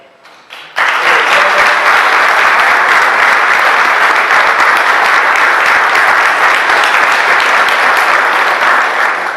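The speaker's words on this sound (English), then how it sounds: "one more round of applause for our Chief Master Sergeant honorees" An audience at a Chief Master Sergeant induction ceremony bursts into loud, close applause for the honorees, dense clapping that starts abruptly and holds steady to the end.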